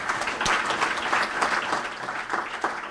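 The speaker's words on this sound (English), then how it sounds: "Please, let's give him another round of applause." An audience at the launch of the Central Bank of the Gambia's first capital market breaks into sustained applause, a dense patter of clapping that swells and eases slightly.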